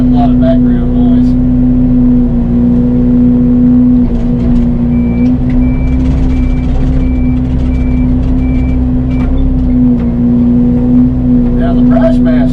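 A mini excavator fitted with a mulching head travels with its engine droning loud and steady, a constant low hum and rumble throughout, with faint intermittent beeping in the background.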